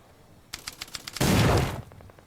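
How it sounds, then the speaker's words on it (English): A tabletop wargame battle scene's rifle grenade goes off as a single loud, broad blast with a rumbling tail, right after a quick burst of sharp gunfire pops. "A soldier snaps off a rifle grenade."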